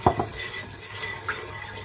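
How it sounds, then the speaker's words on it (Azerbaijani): A spoon knocks and scrapes against a pot while curry is stirred, with a sharp clack at the start followed by a softer one, then light scraping that stays fairly quiet. "Qarışdırırıq, qoymuruq ki, yansın."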